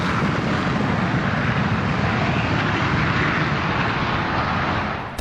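A JF-17 Thunder and an F-16 fighter jet take off at an air display, a loud continuous roar of jet engines building steadily across the whole stretch with no voices.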